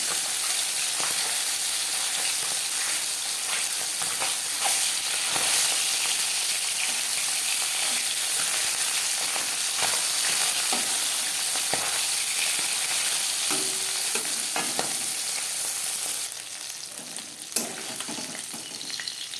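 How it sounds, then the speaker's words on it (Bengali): Steady, loud sizzling of tangra fish frying in hot oil, a continuous crackling hiss with occasional spatters, and no voices. "হালকা করে মাছ ভেজে নেবো"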